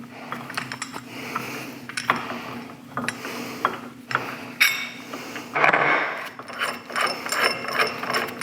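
Mechanical ratchet clicks and metallic gear sounds come in irregular bursts while the old center sleeve of a 100 Series Land Cruiser upper trailing arm bushing is worked out, close and moderately loud with scattered knocks.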